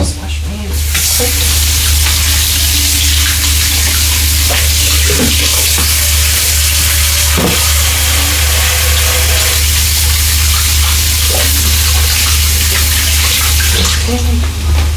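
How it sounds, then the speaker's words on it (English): Tap water runs steadily as hands are washed in a kitchen sink while cooking, a continuous broadband splashing rush that stays loud throughout, with brief faint voice moments underneath. "just wash my hands quick"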